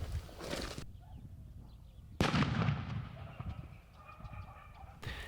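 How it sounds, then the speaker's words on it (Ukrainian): Three heavy blasts of controlled landmine detonations go off at intervals, each a sharp broadband boom with a rumbling tail, against outdoor background noise. "Вони всі ці предмети будуть знищені на місці виявлення контрольованим вибухом."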